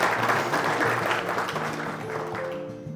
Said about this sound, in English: Applause all